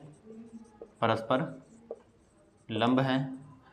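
Marker or chalk scrapes on a board during a math lesson, with two short scratchy bursts of writing separated by a pause, close and moderately loud.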